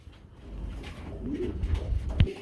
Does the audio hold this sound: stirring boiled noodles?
no